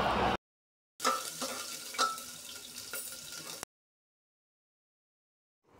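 Cumin seeds, green chillies and ginger sizzle in hot oil while being stirred, a bright crackling fry that starts and stops abruptly with silent gaps between.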